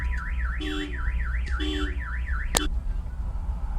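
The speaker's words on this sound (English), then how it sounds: "car alarms are going off" A car alarm wails in a repeating rising-and-falling siren pattern, punctuated by short beeps, then cuts off near the end.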